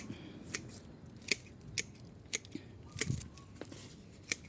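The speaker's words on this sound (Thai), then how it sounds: "มันต้องค่อยๆ เล็ม ทีละยอด ทีละยอด ทีละยอด ที่กิ่งที่มันซ้อนกันครับ" Shears snip at a Siamese rough bush bonsai, tip by tip, in a bonsai garden in Korat, giving about nine faint, crisp clicks at an uneven pace in a quiet setting.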